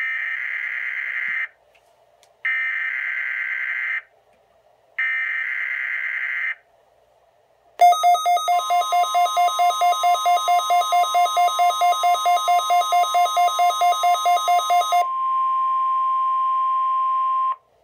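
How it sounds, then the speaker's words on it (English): A National Weather Service warning alarm tone test: three loud steady beeps with pauses, then a rapid pulsing warble of buzzy tones, ending in a sustained single tone, all clean and electronic with no voices. "The proceeding was a test of the National Weather Service warning alarm tone."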